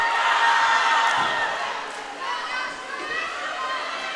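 Swim teammates at the end of the pool cheer on a racer at a high school swim meet, a blend of shouts and whoops echoing across the natatorium at a steady, lively level.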